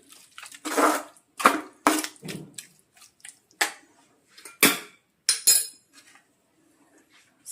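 Pork liver fry ingredients are stirred together in a metal pot, with a spoon scraping and clinking against the sides in uneven bursts, close by, separated by short quiet gaps.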